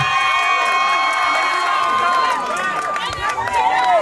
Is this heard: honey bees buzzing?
no